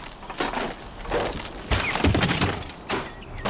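A door being breached in the video game Horizon Zero Dawn: a series of heavy wooden thunks and splintering cracks in an irregular rhythm, loud and close, with no talking.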